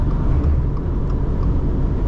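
A 2021 Subaru Outback with its 2.5 boxer engine swerving between lanes at high speed, heard as a steady, loud cabin rumble of road and wind noise without any breaks.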